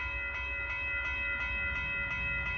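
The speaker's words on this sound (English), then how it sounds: "Here comes the northbound train." A northbound Union Pacific mixed freight train passes at a road crossing in Austin, Texas, with a steady low rumble and repeating wheel clacks about every third of a second, while high sustained tones ring over it throughout.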